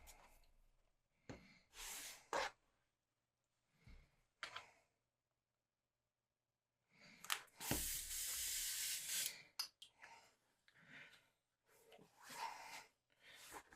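An airbrush spraying chrome yellow paint onto a miniature figure, heard as several short hissing bursts of varying length separated by silences, with one longer, louder spray in the middle.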